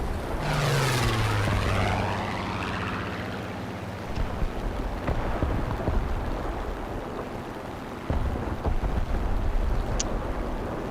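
Spitfire fighter engine droning steadily in War Thunder after taking damage, a continuous propeller roar with a low pitch sweeping downward early on, loud and unbroken for the whole stretch with no talk over it.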